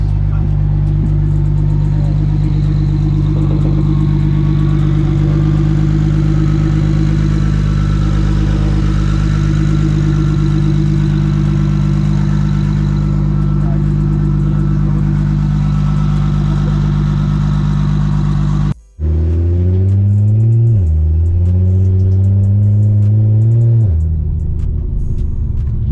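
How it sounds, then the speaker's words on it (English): A big-turbo BMW 335i running an open dump idles loudly with a steady, deep drone and strong low harmonics, then after a brief cut it revs up and down in rising and falling sweeps, close up. "And we're running an open dump, so that's why it sounds like this."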